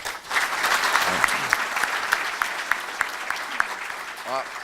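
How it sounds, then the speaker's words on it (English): A room full of people claps steadily for several seconds, with sharper individual claps standing out and voices briefly audible near the end. "Round of applause for Doug."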